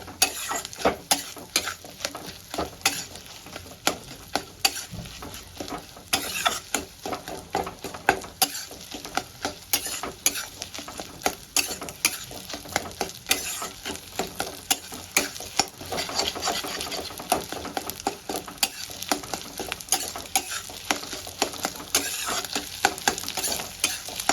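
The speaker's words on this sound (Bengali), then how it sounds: "ডিমটাকে এরকম ভেঙে চুড়ে ভালো ভালো করে ভাজা ভাজা করে নেব" Fish roe being broken up, stirred and fried in oil in a pan, a continuous sizzle with frequent scraping stirs of a spatula, close and fairly quiet, with no talk.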